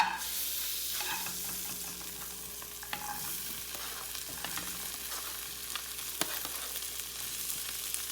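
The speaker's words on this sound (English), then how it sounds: "Just going to take your corn and add that to the pan." Corn sizzles steadily in a hot frying pan, a soft continuous hiss with scattered small pops and spoon scrapes, fairly quiet and with no talking.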